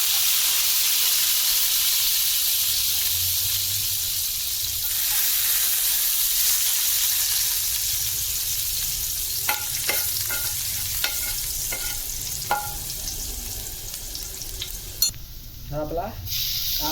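Garlic fries in hot oil for a spicy stuffed brinjal dish with dried shrimp, a loud continuous sizzle that steadies, then gives way to a series of crisp spatula taps and scrapes toward the end.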